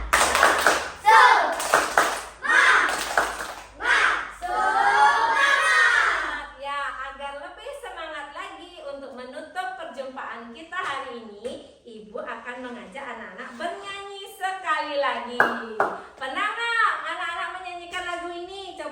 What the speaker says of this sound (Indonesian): Tepuk semangat. Tepuk semangat.